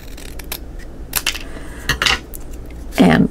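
Scissors snip through paper in a few short, sharp cuts spaced irregularly, close and clear, ending with a louder rustle or clack as the piece is set down; no one speaks.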